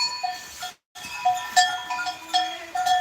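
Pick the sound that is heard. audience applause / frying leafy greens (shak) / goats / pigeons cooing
goats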